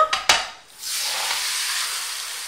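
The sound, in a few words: Spanish tortilla frying in a pan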